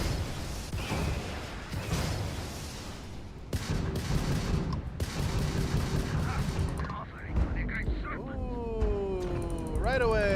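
Starfield spaceship weapons fire in rapid bursts and blasts over a dense roar, with rising whines near the end, while a voice talks over it.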